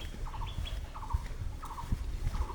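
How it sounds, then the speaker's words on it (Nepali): Small birds chirp in short repeated bursts on an open hillside under a clear sky, faint and somewhat distant over low rustling background noise. "चराहरूको चिरबिर"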